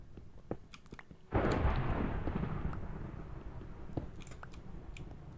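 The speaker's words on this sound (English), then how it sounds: "Oh, hello, thunder" Thunder rumbles in the TerraFirmaCraft mod of Minecraft, a sudden loud broadband crack swelling in and rolling on as a long fading roar.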